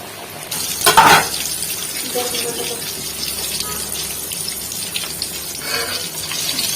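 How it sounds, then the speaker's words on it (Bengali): Chicken pieces deep-fry in oil at home for crispy fried chicken: a steady close sizzle with a sharper splashing surge just after it begins. "বাকি বস্তুগুলো ভেজে তারপরে নামিয়ে নিচ্ছি"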